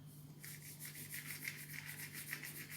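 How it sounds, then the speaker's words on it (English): Hands rub a dried seed head to release its seeds, giving a soft, steady dry rustling and scratching that rises and falls in short strokes, close up and quiet, with no talking. "the easiest way to do it is to turn it that way and then rub it"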